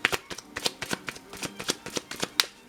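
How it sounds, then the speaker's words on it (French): A deck of tarot cards is shuffled briskly up close, a rapid run of crisp riffling slaps and flutters with no talking. "On va faire le tirage de cartes."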